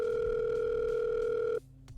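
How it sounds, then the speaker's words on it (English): A steady electronic phone tone rings in a video game, holding loud and even for about a second and a half before cutting off abruptly, leaving faint background hum. "Phone ringing."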